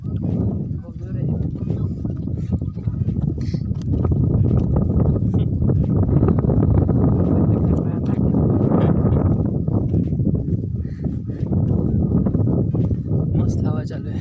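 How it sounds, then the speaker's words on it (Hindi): Wind gusting over a hill station near Aurangabad, a broad continuous rush buffeting the microphone, loud and close, with people talking over it at times. "मस्त हवा चल रही है"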